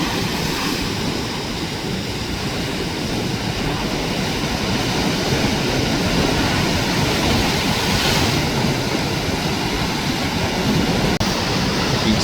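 Brown floodwater gushes steadily into the sea as the tide rises the day after a typhoon, a dense, unbroken roar of rushing water and surf mixed with wind noise on the microphone.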